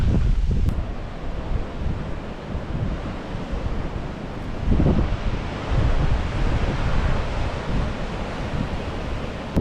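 Rough ocean waves below the cliffs of Nusa Penida, Bali, a continuous broad wash of surf with gusting wind rumbling across the microphone, swelling slightly midway.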